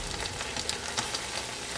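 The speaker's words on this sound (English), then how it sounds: "There's more sizzling going on there." Rice sizzles in a hot pan as a crust forms on the bottom, a close, steady crackling hiss with small popping bursts throughout and no talking.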